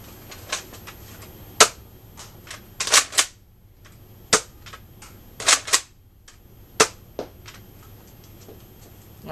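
A Nerf N-Strike Elite Retaliator blaster fires foam darts without its barrel attachment, sharp clacking shots and priming clicks scattered irregularly in a quiet space.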